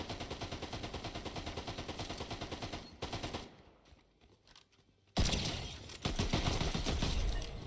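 Rapid automatic gunfire and bursts of shots from a multiplayer shooter video game, loud and dense, pausing briefly mid-clip before resuming in heavy volleys.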